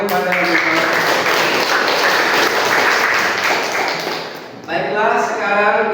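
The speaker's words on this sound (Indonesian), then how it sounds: "Ayo berikan aplaus semuanya kepada mereka." Clapping and cheering from an audience at a teacher performance assessment event in Gorontalo, a steady dense wash of applause that dips briefly near the end and then swells again, with voices mixed in.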